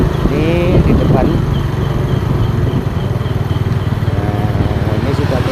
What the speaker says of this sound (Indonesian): Maaf saya pakai motor agak kenceng sedikit ya.